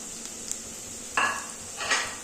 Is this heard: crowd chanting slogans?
no